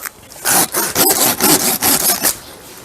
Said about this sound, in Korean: 톱질이 한 번 들어가면은 깨끗하게 이제 단면이, 잘린 단면이 깨끗하게 나올 수가 있습니다